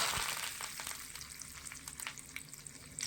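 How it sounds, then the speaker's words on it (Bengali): Whole cumin seeds, dried red chili, bay leaf and curry leaves spit and sizzle in hot oil, a steady bright crackle with scattered sharp pops, close and fairly quiet, with no voices. "তেল গরম হয়ে গেলে অল্প একটু গোটা জিরে ফোড়নে দিয়ে দিচ্ছি আর দিয়ে দিচ্ছি শুকনো লঙ্কা তেজপাতা কয়েকটা দিয়ে দিচ্ছি কারি পাতা"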